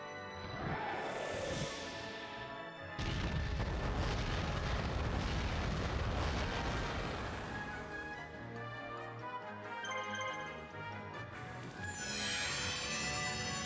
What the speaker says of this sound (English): get hit by the cannon just as they try to enter.